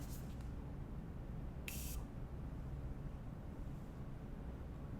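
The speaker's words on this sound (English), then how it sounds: "It's just a nice mist instead of blotches of spray on your face, and it works." A setting mist sprayed from a Morphe continuous-mist bottle gives one soft hissing burst of about a third of a second, close by, over a low steady background hum.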